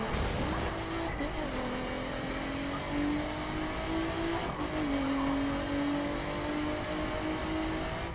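A Nissan GT-R R35 in the racing game The Crew, its engine droning steadily with pitch rising and falling through shifts as the car slides through turns, continuous and close throughout, with faint speech beneath.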